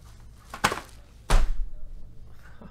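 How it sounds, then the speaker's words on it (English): Two sharp thuds ring out, the second heavier and louder, as a hand strikes hard against a computer close by. "Smashed my hand on my computer."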